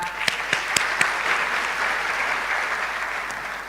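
A medical and dental practitioners' induction ceremony audience applauds, with a few sharp distinct claps at first and then a moderate, even patter of many hands that holds steady throughout.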